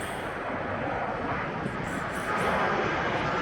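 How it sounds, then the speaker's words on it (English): A small jet roars steadily during takeoff at Fort Lauderdale airport, a broad, continuous engine rumble that stays loud and close and swells slightly near the end, with no voices over it. "Of course, that's a small jet"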